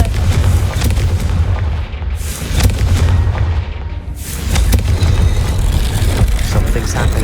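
A Confringo fire spell explodes in Hogwarts Legacy, a loud, sustained rumbling boom with heavy low roar that dips briefly and then swells again, filling the scene close up.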